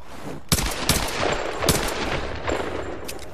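Pistol fire from the Tomb Raider 2013 video game: four or five sharp, loud shots spaced irregularly about half a second apart over steady ambient game noise, with no talking.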